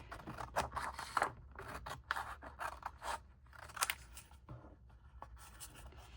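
Scissors cutting paper to make a handmade journal, a run of quick crisp snips and slicing strokes close up, quiet and uneven in rhythm, with no talking.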